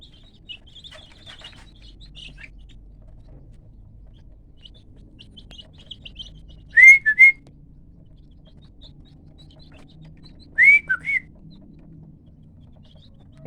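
Whistled imitation of an eagle's cry among free-range village chickens: two short bursts of shrill, bird-like whistling, each a quick pair of notes, standing out over a faint background of soft chirps and low rustling.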